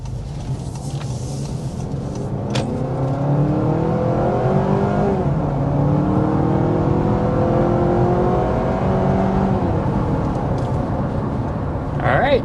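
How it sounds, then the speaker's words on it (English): A 2025 Honda CR-V under hard acceleration, its engine climbing through rising revs in several steps toward about 60 mph uphill, steady and loud from inside the cabin with brief talk near the start. "we're going to go ahead and start with a hard acceleration"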